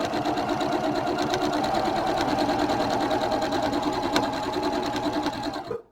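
Sewing machine chain piecing quilt squares, with the needle running in a fast, continuous mechanical whir at close range. It holds steady for several seconds, then stops abruptly.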